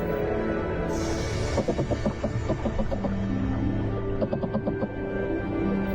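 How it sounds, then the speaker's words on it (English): Underwater courting sounds of two fish calling to a female: rapid knocking and purring pulses in bursts over a low continuous rumble, fairly close and loud. "Two Walkman fish are noisily trying to woo a female."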